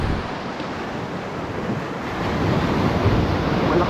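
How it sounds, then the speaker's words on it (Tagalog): Strong sea waves churn and break around a small fishing boat, a steady rushing roar of surf mixed with wind buffeting the microphone, growing louder in the second half. "Malakas yung alon mga master."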